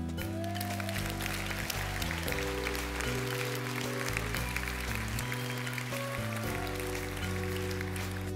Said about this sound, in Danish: Så skulle vi ikke starte med at give jer selv et rigtig stort bifald for indsatsen?